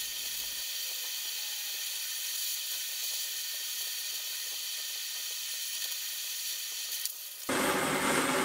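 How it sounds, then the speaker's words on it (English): A hot steel gear cutter plunged into liquid for quench hardening gives a steady, bright sizzling hiss that holds evenly for several seconds, close and fairly quiet, before a sudden louder burst of noise at the end. "I now need to quench harden it in order to make it a proper cutting tool"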